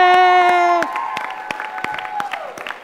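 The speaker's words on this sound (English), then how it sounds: "A big round of applause to all the team leaders" A crowd at an evening coding hackathon session claps and cheers for its team leaders, opening with a loud sustained shout before scattered, lively applause carries on close by.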